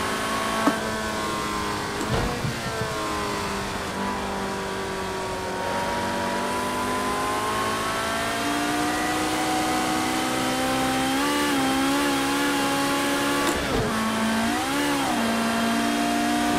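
A Ferrari F40 LM engine in Project CARS 2 drones and revs on a race track, its pitch rising and falling in long sweeps. It stays steady and fairly loud throughout, with no voices.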